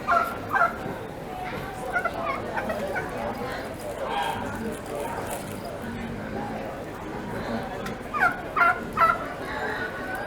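Turkeys at a 2022 poultry show give repeated gobbles and fowl calls in several bursts, close by, over a busy background with people talking and a dog barking.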